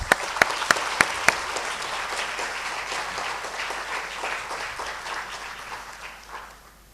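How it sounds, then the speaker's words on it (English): A lecture audience breaks into warm applause for Professor Spivak, a few sharp close claps at the start swelling into a full, steady round that gradually fades toward the end. "join me in giving a very warm round of applause to Professor Spivak"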